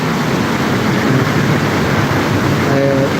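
A train rolls past on a rainy day in Thonburi, Bangkok, a loud continuous rumble and roar filling the whole stretch, with a brief tonal hum near the end.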